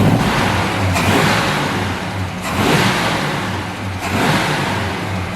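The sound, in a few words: barn find XC Cobra engine running after first start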